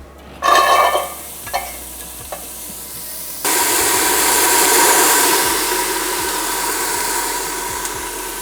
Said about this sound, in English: into my pot is gonna go all of these onions